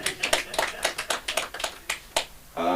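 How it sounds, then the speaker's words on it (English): Sparse, scattered clapping at a comedy show in Los Angeles, a few distinct close claps spaced irregularly rather than a full ovation. "Round of applause for this gentleman."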